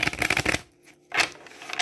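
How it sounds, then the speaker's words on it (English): A deck of cards being shuffled close by, a riffling burst that pauses briefly and then starts again, crisp and near with no talking. "I always shuffle four times, right?"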